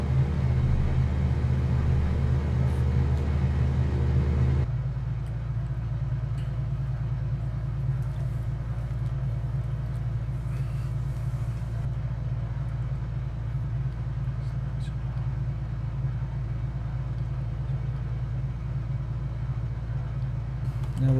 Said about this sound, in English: Oh, the engine's now started.